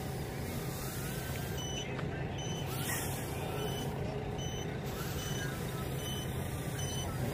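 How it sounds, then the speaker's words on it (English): A steady electronic beeping from a quadcopter's lost-model buzzer repeats over a constant droning whir from start to finish, thin tones cutting through the broad motor noise. "Yep, still got the buzzer in effect."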